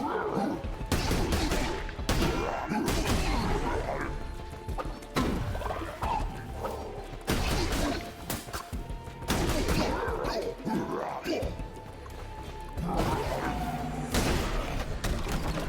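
Cult of the Lamb missile fire and explosions repeat in loud bursts of crackling blasts and thuds every second or two, with busy game effects in between.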